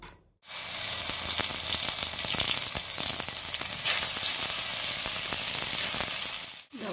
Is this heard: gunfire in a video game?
no